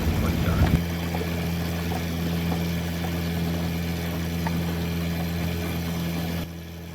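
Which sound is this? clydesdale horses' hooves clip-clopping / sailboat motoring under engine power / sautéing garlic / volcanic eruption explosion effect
sailboat motoring under engine power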